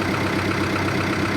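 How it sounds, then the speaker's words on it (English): A tractor engine runs steadily to drive the new hydraulics of an old homemade wood splitter, a loud, close, continuous drone with no talking. "Probably if I rev the tractor up a little bit more, she'd go too, right?"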